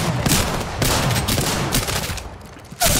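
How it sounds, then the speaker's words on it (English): Burst pistol gunfire in Apex Legends rattles in rapid clustered volleys, loud and close, with short gaps between bursts and a fresh burst at the end. "Oh, it's a burst pistol."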